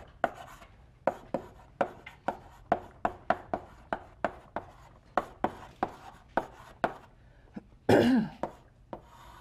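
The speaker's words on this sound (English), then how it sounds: "So let me write a little bit on the board." Chalk tapping and scraping across a blackboard during an engineering lecture on beams, a steady run of sharp, evenly paced strokes close by, ending in a longer louder scrape near the end, with no talk over it.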